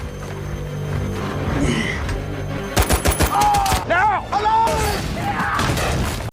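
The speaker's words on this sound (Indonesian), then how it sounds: "Bermodalkan peluru meriam dan senapan mesin yang dioperasikan oleh Norman, mereka pun mulai membabi buta menembaki semua musuh" Rapid bursts of heavy tank cannon and machine-gun fire crack and boom over a dense battle din, with rattling automatic fire and shouted voices mixed in.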